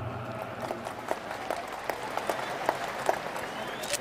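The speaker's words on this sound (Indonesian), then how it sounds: "Kita berikan tepuk tangan untuk itu." Sustained applause from a large audience at a political party gathering in Indonesia, many hands clapping in a continuous roar with occasional louder individual claps, a voice faintly underneath.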